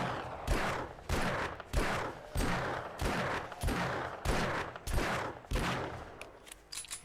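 A gun fires in the video game 7 Days to Die, about a dozen loud, booming shots at a steady rhythm of roughly one every half second, each with a short echoing tail.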